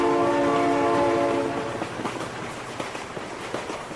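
Loud train horn blaring with steady multi-tone blasts for the first second and a half, then giving way to the rumbling clatter of the approaching train rolling past, with no talking.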